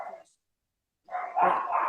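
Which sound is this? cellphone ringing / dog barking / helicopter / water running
dog barking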